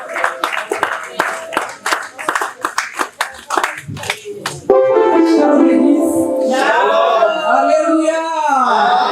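A church congregation at a New Year's night service claps in a quick, irregular rhythm for about four seconds, then swells into loud, sustained cheering and ululating voices that carry to the end.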